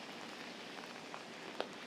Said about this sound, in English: It's kind of a mid-heavy rain.